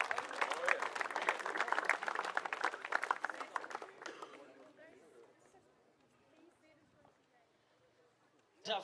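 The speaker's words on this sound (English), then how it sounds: "Let's give him a round of applause, please." A crowd at a youth football presentation applauds the under-16 Lions captain, loud clapping for about four seconds that quickly dies away into quiet room noise, with a brief bump at the very end.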